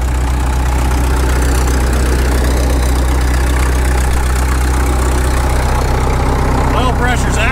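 Caterpillar D2 bulldozer engine idling after sitting for 20 years, a loud, close, steady low chugging rumble that runs throughout, with people talking over it.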